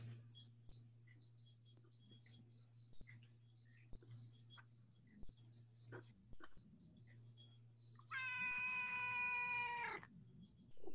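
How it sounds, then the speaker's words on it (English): A cat meows once, loud and drawn out near the end, over a Zoom call, after a long stretch of quiet hum and faint ticking clicks. "That's somebody's cat."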